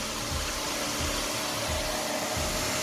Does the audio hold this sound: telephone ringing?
no